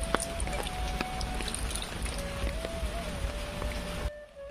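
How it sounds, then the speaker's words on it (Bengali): Rainwater runs off a house roof in a steady, fairly faint patter and trickle that continues until it drops away just before the end. "বৃষ্টি পানি ছাদের উপর থেকে পড়ছে।"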